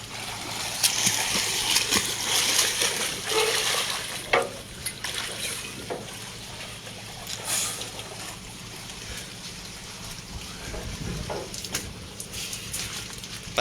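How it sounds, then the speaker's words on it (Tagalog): People jump into water at a swimming spot, with scattered splashes and sloshing through the clip amid outdoor background noise and some distant voices. "Bawakan mo kay Pat, tapos talon ka dyan, oh."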